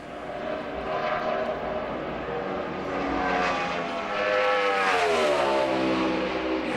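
NASCAR Sprint Cup stock car engine at speed during a qualifying lap for the Sprint All-Star Race, a loud sustained roar with a rising then shifting pitch as the car passes, steady and close with no talk over it.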